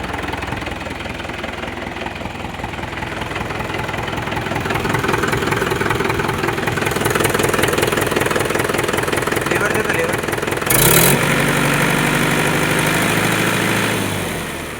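A 2012 Mahindra 475 Bhumiputra tractor's diesel engine idles close by with a loud, steady, knocking chug and rattling vibration, continuous throughout, with voices talking over it.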